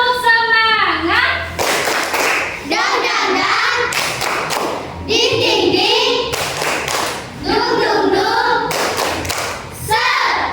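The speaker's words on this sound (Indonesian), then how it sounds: "Tepuk semangat." Classroom "tepuk semangat" spirit clap: elementary pupils chant in a sing-song rhythm, breaking into bursts of patterned group clapping and thumping between the sung phrases, loud and close.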